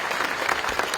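An audience claps steadily at a government appointment-letter ceremony in Odisha, a continuous mid-level patter of many hands with no break.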